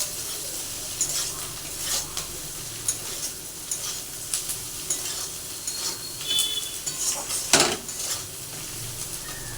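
Turmeric and chilli powder are stirred in a cooking pan over a low sizzle, with irregular scraping and clinking of a metal spoon against the pan and one sharper knock near the end, all close and without voices.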